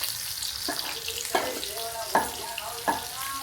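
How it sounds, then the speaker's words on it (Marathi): Pomfret fish frying in a pan over a high flame, a close steady sizzle broken by four sharp spitting crackles at regular intervals, with no one talking. "तर आता हे आपलं फ्राय होतंय. थोडंसं हाय फ्लेमवर ठेवलंय,"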